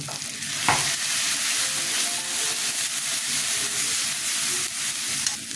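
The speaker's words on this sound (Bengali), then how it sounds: "মশলাটা কষানো হয়ে গেছে" Spice paste of turmeric, chilli, cumin and coriander powders stir-fried in a pan makes a steady, close sizzle with scraping stirs throughout, no talking.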